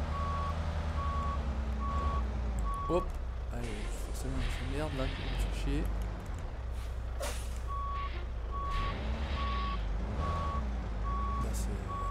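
Steady reversing beeps from a truck in Euro Truck Simulator 2, pulsing evenly over a low engine rumble, pausing in the middle and then resuming, while someone talks over it.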